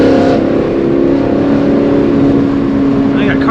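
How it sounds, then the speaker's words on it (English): Engine of an E85-fuelled, full-bolt-on S550 Ford Mustang driven on the road, a loud steady droning growl from inside the car as it downshifts on the paddles, with little change across the clip. "That's when downshifting's fun with these paddles"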